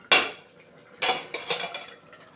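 A metal lid clanks and scrapes off a pot of thin fish curry with drumsticks and potatoes: one sharp clatter, then a few lighter knocks close by, with no voices.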